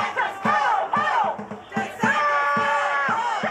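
A crowd of protesters outdoors shouts and chants together in loud, rhythmic bursts, many voices rising and falling in repeated cries.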